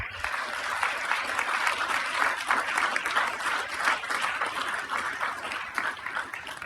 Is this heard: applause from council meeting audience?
yes